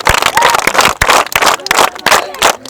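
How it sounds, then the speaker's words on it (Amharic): A group of children clap for themselves in a busy, irregular burst of hand claps, with voices and crowd noise mixed in throughout. "እሺ አጨብጭቡ፣"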